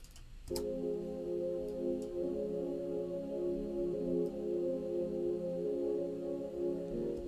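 A warm, sustained synth pad swells in after a brief pause and holds a rich chord steadily, smooth and unbroken, with no talking.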